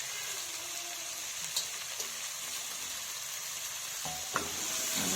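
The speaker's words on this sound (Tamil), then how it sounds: "நண்டை போட்டு நல்லா வதக்கணும்." Crab sautéing in a pan for crab gravy gives a soft, steady sizzle with faint scrapes and stirring clicks, heard alone at low volume.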